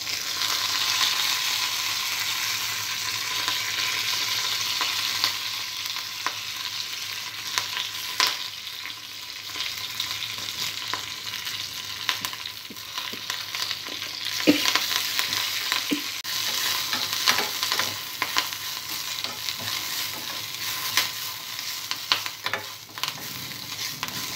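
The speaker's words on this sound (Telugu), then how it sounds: "ఎండుమిర్చి వేయించుకున్న ఇదే ఆయిల్లో కరివేపాకు కూడా ఫ్రై చేసుకోవాలి." Curry leaves fry in oil left from roasting dried red chillies for a curry leaf chutney, giving a continuous close crackling sizzle with scattered stirring clicks and spatters, no talking.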